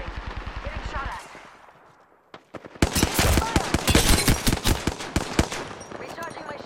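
Rapid gunfire in Apex Legends, a fast rhythmic burst at the start that cuts off, then after a short lull a loud dense exchange of close shots and cracks that continues to the end.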